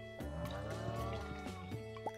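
Cows mooing in the farming video game Stardew Valley, a few short synthesized moos over layered game music, fairly faint, with no talking.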